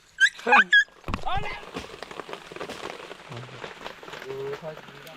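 Heavy rain falls in a forest as a steady, soft patter under frequent nearby talking and a few sharp high chirps.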